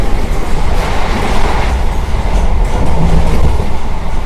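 A local passenger train runs from Ghaziabad toward New Delhi, heard from inside as a loud, continuous rumble with rhythmic wheel clatter on the rails.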